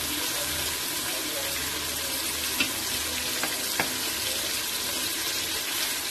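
Onions frying in a pan toward golden brown and crisp, a steady broadband sizzle running throughout with a few faint clicks, fairly close and continuous, no talking.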